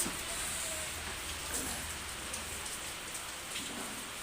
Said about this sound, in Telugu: వర్షం ఇప్పుడే స్టార్ట్ అయింది